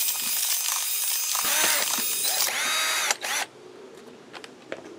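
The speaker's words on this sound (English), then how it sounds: "Figure I'll try my drill here." Handheld power drill churning a homemade citric acid descaling powder mix with aluminum sulfate, a steady loud mechanical whir with rising whine that cuts off after about three seconds, followed by faint clatter.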